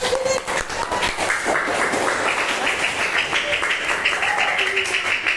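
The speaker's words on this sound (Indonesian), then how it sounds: "Ya, tepuk tangan." Children in a classroom clap their hands after a classmate reads her descriptive writing, a steady patter of many small hands at moderate volume with voices mixed in.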